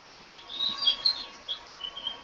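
Recorded birdsong from a white noise machine: bright, thin chirps and tweets in short bursts, faint behind quiet room tone with no talk.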